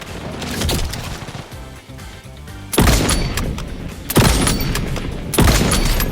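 A P90 submachine gun fires in a first-person shooter game, loud bursts of gunfire over a continuous layer of game noise, with three heavy booming volleys standing out near the end.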